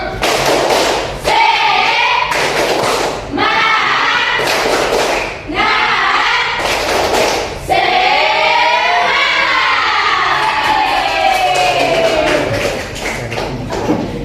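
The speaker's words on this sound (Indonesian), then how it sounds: "Kita pakai tepuk semangat atau tepuk cantik? Tepuk semangat." Schoolchildren in a Quran class perform the rhythmic tepuk semangat clapping chant, loud bursts of group claps alternating with chanted voices in a steady repeating pattern across the whole stretch.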